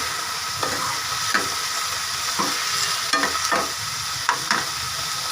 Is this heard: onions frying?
yes